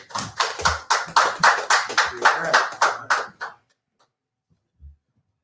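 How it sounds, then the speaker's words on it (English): Rhythmic, evenly spaced group hand claps from an audience at a men's event, about a dozen loud beats in unison over three and a half seconds before stopping abruptly, followed by near silence and one faint thump. "let's give them a hand clap"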